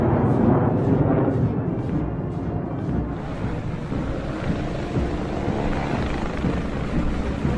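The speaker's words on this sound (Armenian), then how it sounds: "հրապարակ են մտնում փառապանց ճանապարհ անցած հակաօդաչակավոր MiG-29 կործանիչ ինքնաթիռների խումբը" A formation of MiG-29 fighter jets passes over a military parade, a steady loud broadband roar that holds without a break from start to finish.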